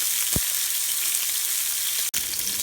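Wild duck pieces sear in a hot pan over high heat, giving a steady, loud sizzle with no talking and a brief break near the end.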